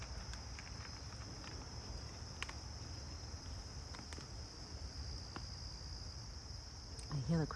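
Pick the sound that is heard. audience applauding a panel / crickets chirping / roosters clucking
crickets chirping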